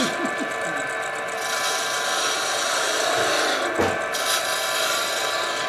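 A wooden whistle shape turns on a wood lathe as a tool cuts and rubs it, giving a continuous loud scraping hiss with a few brief shifts in pressure. The work sounds close, with no talk.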